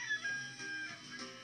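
Chicken sounds in a room where a pair of novelty glasses is being fitted onto the bird, with soft clucking and fowl calls running steadily through the short moment at moderate level, no speech.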